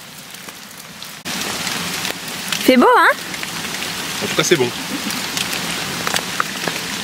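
Steady rain patters on surfaces around hikers eating outdoors on a steep trail in Charlevoix, a constant close hiss with people chatting over it and a brief warbling whistle partway through.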